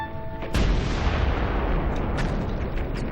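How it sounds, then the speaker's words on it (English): A sudden loud explosion bursts in and then rolls on as a long, heavy rumble that slowly fades. "Then came the frightful explosion."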